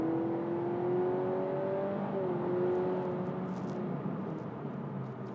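2023 Honda Civic e:HEV hybrid accelerating hard: a steady rising electric whine over a smooth engine hum, heard from inside the car, fairly quiet, with a brief dip and a few faint clicks near the end.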